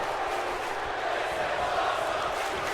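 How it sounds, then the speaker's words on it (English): Arena crowd noise from the WWE 2K19 wrestling game, a steady, dense roar of cheering with no break, filling the scene evenly and loudly throughout. "that really fired the crowd up"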